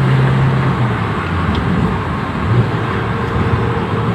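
A 2004 Daihatsu Taruna accelerating hard in fourth gear, heard from inside the cabin as a loud, steady engine drone mixed with road and wind roar that hardly changes in pitch, with no voices.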